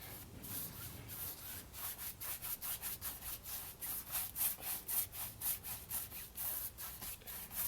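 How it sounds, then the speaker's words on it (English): A stiff bristle chip brush scrubs acrylic paint across canvas for a blue sky, making a steady run of rhythmic rubbing strokes, close and fairly quiet, with no talking. "I'm using a bristle brush here."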